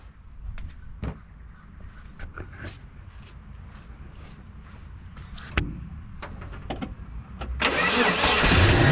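A Ford Falcon XE engine cranks through a series of uneven turns and sputters, then catches and roars into a loud, rising idle near the end, with its carburetor freshly fuelled.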